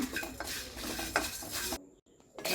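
Cumin seeds, black pepper and Kashmiri chillies dry-roasted in a pan, with close, quiet scraping and stirring of a utensil against the pan, broken by a short pause near the end.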